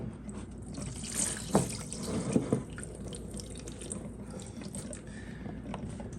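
Antifreeze drains from a 2003 Yamaha R1 motorcycle as a steady, trickling stream of liquid with a few brief splashes, heard up close and fairly quiet.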